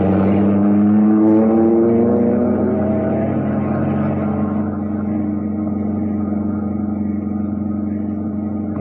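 A car engine turns over and then drives off in a radio drama sound effect: a loud, close motor whose pitch climbs as it accelerates, then settles into a steady, throaty drone.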